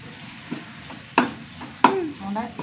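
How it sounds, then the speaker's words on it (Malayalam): Tomato masala is stirred in hot oil in a pan for a chicken curry, with a soft sizzle punctuated by two sharp spoon clatters against the pan. "ഇത് നന്നായിട്ട് എണ്ണ തെളിയുന്നവരെ ഒന്ന് വഴറ്റി കൊടുക്കണം."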